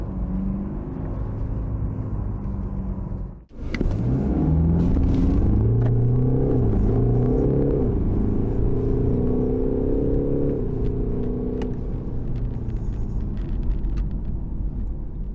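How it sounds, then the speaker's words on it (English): A 2021 BMW 420d G22 four-cylinder diesel revs up after a brief dip, its steady rumble rising and holding loud and close, with a faint synthetic edge layered through the cabin. "It's quite a classic 4-cylinder diesel sound, and there's definitely a little bit of fakery coming through the speakers"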